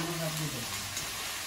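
Food fries slowly in a pan with a soft, steady sizzle, while a voice briefly talks over it at the start.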